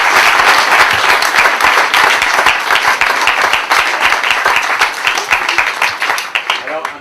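Audience at a sports festival in Auray applauding, with dense, loud clapping from a crowd that holds steady for several seconds and thins slightly toward the end, with voices mixed in.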